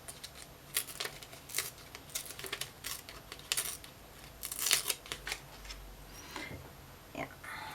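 Paper torn by hand for a mixed-media process journal spread with stencils: a string of brief, bright rips and rustles of varying length spread through the span, fairly close and moderately loud, with no talking.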